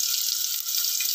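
Tofu frying in a pan for sotanghon soup gives a steady, close, bright sizzle, with faint stirring movement under the hiss.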